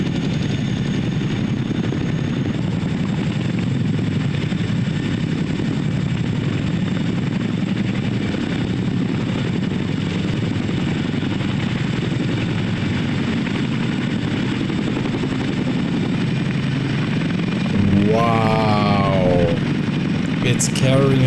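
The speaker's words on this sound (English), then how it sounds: "I'm always scared to see how close these helicopters get to each other" Several military helicopters fly close together, one slinging a tank beneath it; a steady, loud rotor and engine drone fills the scene, with a voice breaking in near the end.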